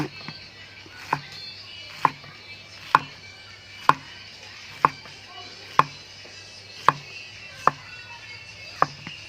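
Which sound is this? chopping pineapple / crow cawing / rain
chopping pineapple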